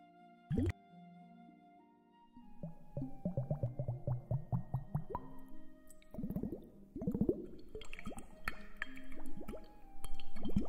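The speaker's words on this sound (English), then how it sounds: "why don't we just listen to water ASMR, considering that we're in Fontaine?" Water dripping and plopping in the Fontaine region of Genshin Impact, a series of close, rhythmic wet drops and squishy splashes following a single sharp drip, with no talk.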